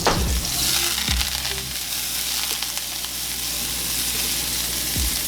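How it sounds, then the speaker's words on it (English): Three tablespoons of butter melting in a pan: steady, loud, close sizzling and frying hiss with a few soft clinks of the pan, no voices. "I'm gonna just drop in 3 tablespoons of butter."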